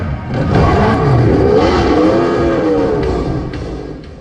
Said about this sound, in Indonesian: John berhasil kabur menggunakan motor.